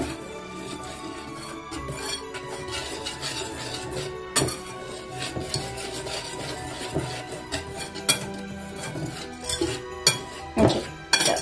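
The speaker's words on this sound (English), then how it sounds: "now we mix a little bit" Cookie dough for Christmas chocolate chip cookies being mixed in a bowl, with steady scraping and rubbing strokes and scattered clinks of utensil against the bowl, close and continuous, without talk.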